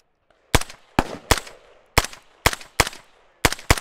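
Gunshots from a Panzer Arms AR57 rifle with no sights, seven sharp loud reports at an uneven semi-automatic pace, each with a short ringing tail outdoors and no talking.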